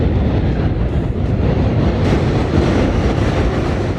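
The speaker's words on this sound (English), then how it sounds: "And it's loud. Like that train." A train rumbles past close by, a loud continuous roar with rattling wheel noise throughout.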